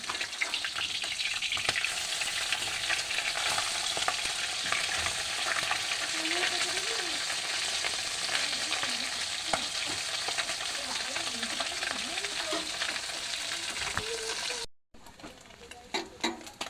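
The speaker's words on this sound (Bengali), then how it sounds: "মাছগুলো নিয়ে এক এক করে ভেজে নেব।" Fish coated in turmeric sizzles steadily in hot oil in a pan, a continuous crackling hiss with occasional spattering pops, close and even, with a short break and utensil sounds near the end.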